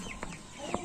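Rhode Island Red heritage chicken in a small backyard coop, giving a few brief, faint clucks over low background noise.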